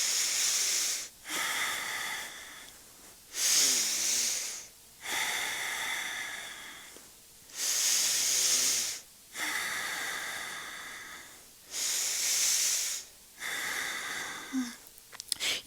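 Slow, deep breaths taken while holding a yoga pose, each long hissing inhale or exhale separated by short pauses, close and clear with no talking.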